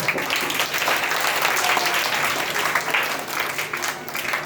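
Audience clapping for a student after her extempore speech at a school event, steady dense applause filling the whole stretch, moderately loud and fairly close.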